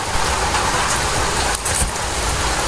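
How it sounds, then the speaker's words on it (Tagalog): Heavy monsoon rain pours down in a steady, loud wash during a sudden habagat downpour in the Philippines, a dense continuous hiss with a faint engine-like rumble underneath and no voices. "Grabe, lakas ang ulan, oh."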